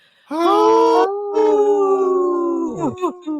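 Radio hosts howl together in imitation of a wolf pack, long sustained human howls in loose harmony rising and falling, close and loud, ending with a few breaking, yelping notes.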